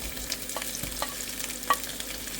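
Tomatoes added to garlic and onion sautéing in a frying pan, a continuous close sizzle with several sharp scraping stirs of a utensil against the pan, no voices.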